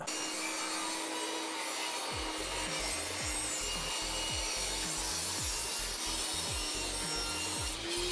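A Ryobi RTS1800 table saw runs loud and constant while a wooden board is fed through, the blade pitch dipping repeatedly under load as it cuts, with no voices.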